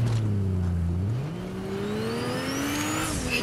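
A car drives in the video game Fortnite, its engine holding a steady hum, then climbing in pitch as it accelerates, with a faint tire whine on top.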